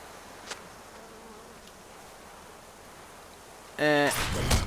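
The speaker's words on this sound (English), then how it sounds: "What, the bees aren't happy that I took some stuff in their hive?" Bees swarm at a beehive in a fantasy video game after the hive is raided, with a faint hum at first and then a sudden loud, buzzing rise at the end.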